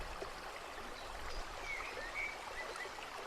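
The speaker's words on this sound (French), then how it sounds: "cette cascade qui coule à vos pieds" Waterfall splitting into several cascading levels of differing flow, dropping into a small pool below, a steady broadband rush of falling water heard close and continuous with no voices.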